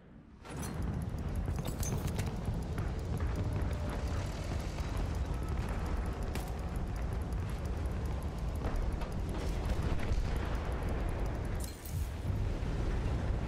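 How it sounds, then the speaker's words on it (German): Battlefield 1 gameplay with a continuous heavy roar of explosions and battlefield noise, dense and loud throughout, with sharp bursts rising out of the din. "Ich sehe ihn explodieren."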